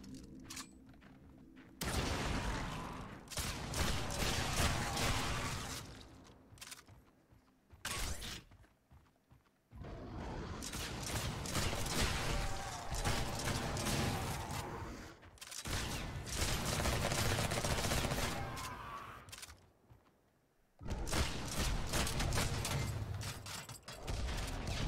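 A video game turret fires at a monster in loud sustained bursts, broken by several short near-silent gaps between volleys, with a thick, noisy mechanical texture.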